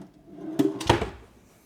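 A hotel room drawer in Dubai slides and knocks shut, two quick wooden thumps close by in an otherwise quiet room.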